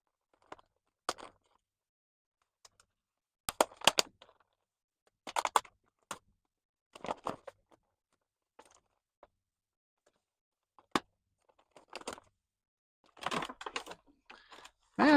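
Toy packaging for a He-Man Beast Man figure is cut open, producing scattered crisp cutting, snipping and crinkling bursts against near silence, irregular in timing and close to the listener, with a denser burst of rustling near the end.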